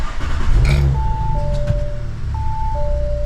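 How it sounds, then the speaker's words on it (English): A car with a P11A700 fault code starts and idles with a low, steady engine rumble, while two-tone dashboard chimes sound repeatedly over it. "I'm gonna start it and then I'm gonna rev it a little bit"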